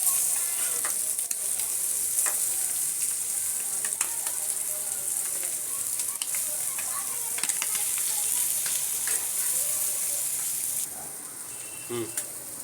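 Chicken liver (kaleji) frying in a pan gives a steady, close sizzle with crackling oil pops and occasional stirring clicks, continuous throughout and easing slightly near the end, no voices.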